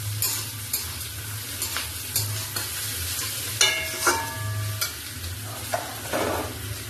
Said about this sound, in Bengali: মাংসটা দিয়ে দেবো একটু ভাজবে পিঁয়াজের সাথে